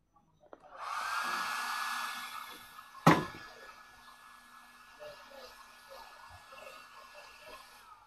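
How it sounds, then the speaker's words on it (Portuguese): A hair dryer drying an MDF box whirs on with a steady high-pitched blowing hum, interrupted by a sharp knock midway, then keeps running more quietly. "Pra secar mais já, você pode usar um secador."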